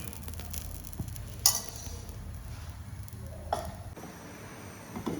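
Paratha frying in ghee on a stovetop pan gives a soft, steady sizzle, with a few clinks from a utensil near the start and middle.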